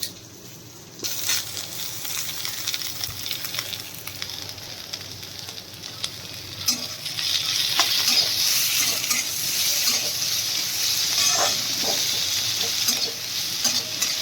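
Chopped onion and tomato fry for a chole masala, a loud close sizzle that swells after the first second, with stirring scrapes throughout.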